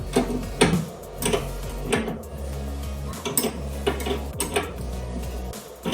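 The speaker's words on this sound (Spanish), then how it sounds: "Sujetamos el raccord con la 12 y con la 14 apretamos" Metal wrenches, a 12 mm and a 14 mm, tighten a brake hose fitting on a kart brake caliper, giving a string of close metallic clinks and ticks over a low steady hum.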